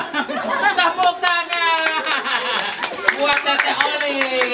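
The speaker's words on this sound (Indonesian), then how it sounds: "Tepuk tangan." People clap their hands at a child's 6th birthday party. Scattered, uneven claps ring out close by, mixed with chuckles, laughter and lively chatter throughout.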